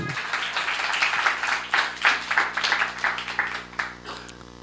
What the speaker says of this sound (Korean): 강사한테 박수 한번 쳐줘야 돼